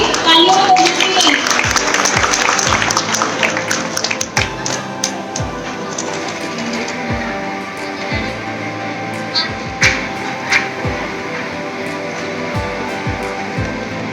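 Audience applause at a Swadeshi rakhi event, dense and loud for the first few seconds, then thinning out into scattered claps and knocks as talking takes over.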